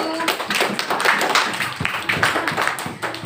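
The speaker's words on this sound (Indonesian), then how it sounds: "Boleh tepuk tangan untuk kelompok 1." Children in a fifth-grade classroom clap their hands for a group, a dense, uneven patter of claps filling the room with a few voices mixed in.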